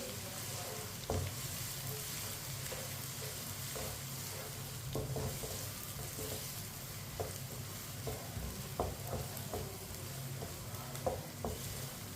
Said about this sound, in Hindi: अब प्याज को मीडियम आंच पर हल्का सा ब्राउन कर लेंगे। इसे ऐसे ही चम्मच चलाते हुए ब्राउन करना है।